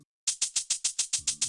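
Shaker sample pattern in FL Studio, turned down slightly in volume: a quick steady train of sharp hissing shakes after a short pause, with a low tone creeping in near the end.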